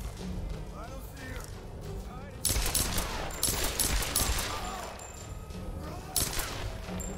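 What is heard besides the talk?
gunfire from enemy in Tomb Raider video game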